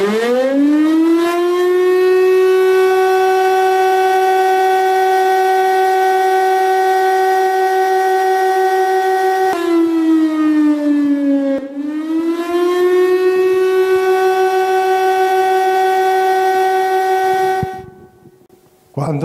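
A fire brigade siren winds up and wails long and loud at close range, holding a steady howling tone. It dips and rises again midway, then cuts off abruptly near the end.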